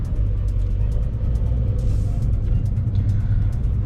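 A Porsche 911 Carrera 4 GTS cruising in normal mode with the exhaust closed, giving a steady, subdued low engine rumble and road noise from inside the cabin, even and unhurried throughout.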